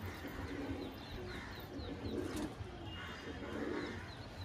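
Pale green homer pigeons, a bonded pair, coo softly in a few low repeated phrases, with faint chirps and rustling around them.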